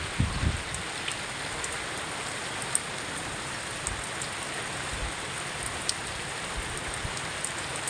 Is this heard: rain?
yes